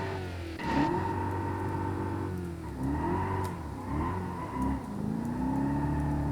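A 7.2 liter Dodge Hemi V8 fitted into a Mazda MX-5 NA in BeamNG.drive revs repeatedly, its rising and falling drone steady and close with several sharp throttle blips.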